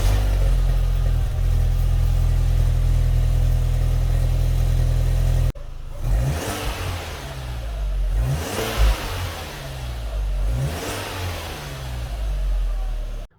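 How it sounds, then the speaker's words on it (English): A 2004 Audi B6 A4 1.8T quattro with a CTS Turbo test pipe, first heard as a steady loud low drone of high cold idle, then cold starting up and revving in several rising surges close by, with no voices. "Cold start and some cold revs with the new test pipe in."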